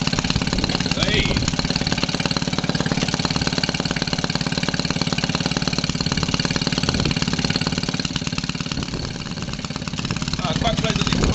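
A 1946 Maytag 72D engine drives a 1927 Maytag washing machine, running with a fast, steady put-put firing rhythm that is close and continuous throughout.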